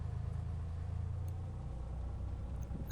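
Cessna 182 engine in the FSX flight simulator throttling up while taxiing, a low steady rumbling drone that thickens briefly before settling.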